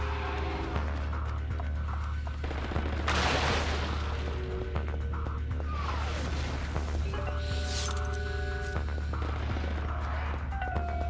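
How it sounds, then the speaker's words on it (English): Gunfire and munitions from a battle in the video game The 3rd Birthday, heard as scattered bursts and booms over a steady low game ambience, fairly faint and distant, with no talk. "we'll call them big and hearty munitions being fired outside"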